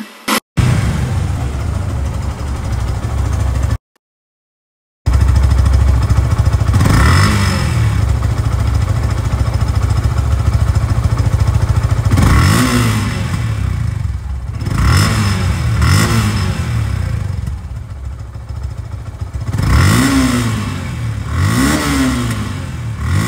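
A 2023 Yamaha FZ-2 motorcycle with 2,700 km on it idles loudly up close, then revs in several sharp rising bursts with short pauses, and no one speaks.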